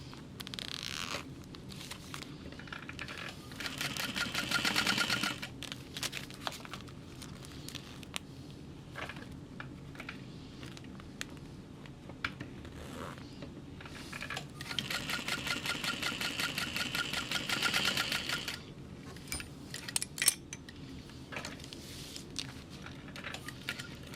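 A sewing machine stitches a clear vinyl stadium bag with a clear zipper, running in rapid mechanical bursts of varying length with short pauses between them, close and moderately loud.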